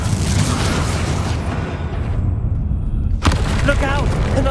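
A Confringo blasting spell goes off in the Hogwarts Legacy video game, a sudden broadband explosive burst that cuts through dense, noisy game action and ambience.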